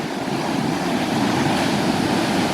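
Water rushes through a huge irrigation canal in Thailand in a loud, unbroken roar. The broad, steady torrent stays constant throughout, with no voices.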